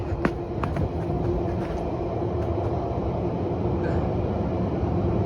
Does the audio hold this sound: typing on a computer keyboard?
no